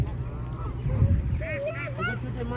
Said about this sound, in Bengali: এখানে তো প্রচুর রাজহাঁস শুধু হাঁস আর হাঁস